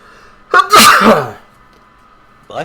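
One loud, close human sneeze with a sharp intake before it, followed by quiet and a brief vocal sound at the end.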